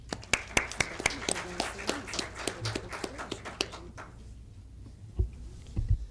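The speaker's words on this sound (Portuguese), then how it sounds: "Damos un fuerte aplauso al señor Flavio Sombra." Sparse audience applause at an academic panel on Latin America and the Caribbean, a handful of distinct hand claps in a loose rhythm that thins out and stops after about four seconds, followed by a few faint knocks.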